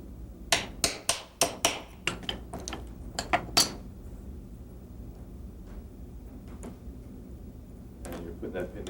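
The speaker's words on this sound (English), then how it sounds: "knock the pin out of it." A hammer knocks a pin out of a pistol hammer during gunsmithing work on a Wilson Combat pistol, a quick run of sharp metallic taps, then sparser taps and faint handling noise.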